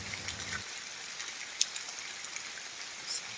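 Steady rain falls in a forest, a dense even hiss of drops with a few sharper splashes, faint and continuous without voices.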